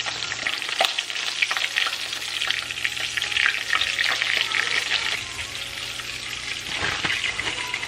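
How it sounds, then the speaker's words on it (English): Steady crackling sizzle of food frying in hot oil, continuous throughout with occasional louder pops and stirring clatter, close by and with no talking. "we're gonna drop them down in the grease"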